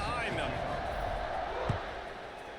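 Crowd noise fills a stadium in College Football 26 before a kickoff, a steady broadband roar with a brief thump near the middle, while a commentator talks over it.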